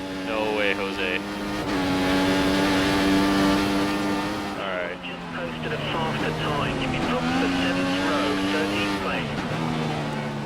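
Racing-car engines in F1 2014 qualifying at the Australian Grand Prix, a loud continuous high revving whine with shifting pitch through gear changes, cars close and sustained, under a talking voice.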